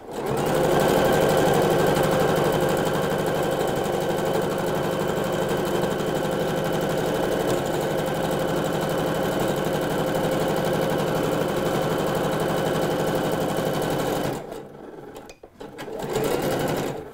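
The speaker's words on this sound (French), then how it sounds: "Et on va passer à la machine ici pour piquer le bord." A sewing machine runs steadily and close for about fourteen seconds, stitching the top edge of dress pieces sewn right sides together, then stops briefly and starts again.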